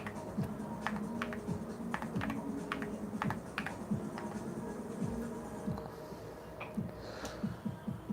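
Rapid typing on a computer keyboard with crisp, clattering keystrokes in an uneven rhythm, close and fairly loud, with a few heavier thocks mixed in and no talk.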